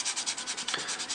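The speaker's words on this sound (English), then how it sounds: "sanding down any rough spots" A 1/6 scale sculpted Vegeta figure, primed and patched with Tamiya putty, is rubbed with a God Hand sanding sponge and 120 grit sandpaper, giving a close, soft rhythmic scratching of quick repeated strokes with no talk.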